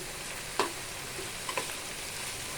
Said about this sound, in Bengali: পাশে করলা ভাজি করতেছি